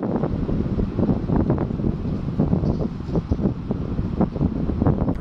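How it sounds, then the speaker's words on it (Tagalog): Wind gusts buffet the microphone beside a river near Mapanuepe Lake, a steady rough roar with uneven puffs throughout, close and fairly loud. "Ramdam nyo ba yung pagaspas ng hangin?"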